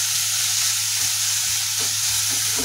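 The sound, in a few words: bottle gourd being stir-fried in a pan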